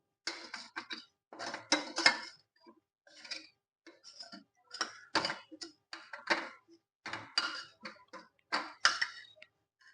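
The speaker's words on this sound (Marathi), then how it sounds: "आता कढाईमध्ये टाकलेले ते वाटलेले ब्रेड त्याचे आपण ब्रेड क्रम्स बनवून घेणार आहे अगदी कमी गॅसवर भाजते" Ground bread crumbs are stirred in a wok on low heat, giving bursts of dry scraping and ticking from the spatula against the metal, in irregular clusters with short pauses between them, close by and moderately loud.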